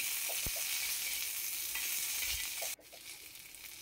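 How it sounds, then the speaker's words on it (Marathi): Garlic frying in hot oil with roasted green chillies, a steady close sizzle with a couple of light knocks, the hiss dropping suddenly near the end and continuing more quietly. "आता मी लसूण टाकून घेत आहे।"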